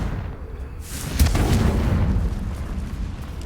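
A Bombarda blasting spell in a Harry Potter video game goes off with a sudden deep boom after a brief swelling whoosh, followed by a sustained rumbling roar that slowly fades.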